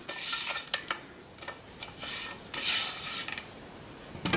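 An AL series clamp is slid off a pole, giving rough metallic rasping and rubbing scrapes in several bursts of uneven length, close and moderately loud, with no talk.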